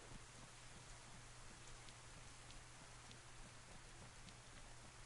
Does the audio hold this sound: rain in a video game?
yes